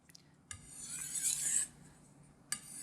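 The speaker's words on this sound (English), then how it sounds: "So I'll do a few more stropping motions." A knife blade is drawn along a strop to remove the burr after freehand sharpening on waterstones, a faint dry rasping stroke lasting about a second followed by the soft start of another, quiet and close with no talking.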